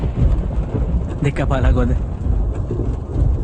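A thunderstorm with heavy rain in a dramatic film climax scene, with a loud, continuous rumbling downpour and thunder throughout and someone speaking over it.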